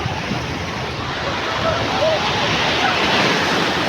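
Waves roll and break continuously on Kuakata sea beach in Bangladesh, a broad steady roar with wind buffeting the microphone.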